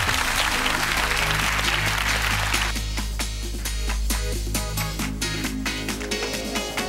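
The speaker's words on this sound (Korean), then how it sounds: "따뜻한 격려의 박수 부탁드리겠습니다." Studio audience applause on a Korean TV quiz show, a dense burst of clapping that thins into scattered claps, with low music sustained underneath.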